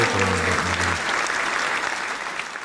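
Recorded applause effect triggered during a live stream: a dense, steady wash of many hands clapping, loud and close at the start and tapering slightly, with a brief voice underneath at the very beginning.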